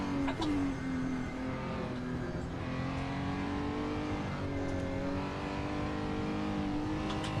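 A race car engine in a sim racing game revs hard near the limiter while held in fourth gear, a loud, continuous buzzing drone whose pitch dips and climbs through corners, with no talking.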